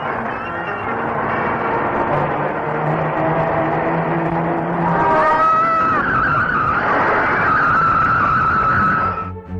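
A fast-moving car skids with a long, loud tire squeal rising over engine roar, staged as a radio drama sound effect, with no talk over it.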